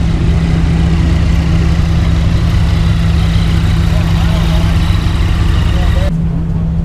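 Yamaha demo motorcycles idle at the AIMEXPO motorcycle expo, a steady low engine rumble that holds continuously, with crowd murmur mixed in, then fades out near the end.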